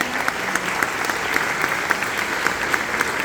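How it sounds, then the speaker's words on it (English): A conference audience applauds a speaker in a continuous, even round of clapping, fairly close and filling the room, with no voices over it. "Round of applause for Veronica de Navarro."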